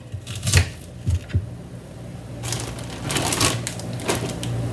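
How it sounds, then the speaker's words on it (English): A knife chops through lettuce on a cutting board for a crunchy spicy taco, giving a few scattered crisp cuts early and then a denser run of quick slicing strokes, close and moderately loud over a low background hum. "So you're gonna cut up a little bit of lettuce."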